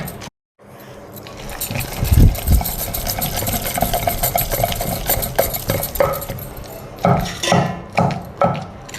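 Ivy gourd pieces with green and dried red chillies ground by hand in a stone mortar, giving a steady scraping, grinding rhythm with louder periodic thumps and rasps, close and continuous.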